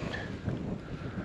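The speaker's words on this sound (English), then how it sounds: "This wind is hectic, I don't know if you can hear it, but it's got to be a good 15 knots." Strong, gusty wind of around 15 knots buffets the microphone beside a Tasmanian lake, a steady broadband rush with faint lapping underneath, close and continuous.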